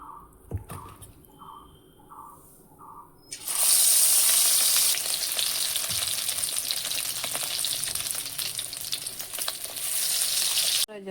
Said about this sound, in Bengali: এখন আমি একে একে বড়া ভেজে নেব।